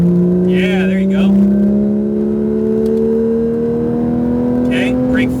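Porsche 991 GT3 RS accelerating on a race track, its engine note rising steadily and loud from inside the car, with brief radio-like chirps over the top.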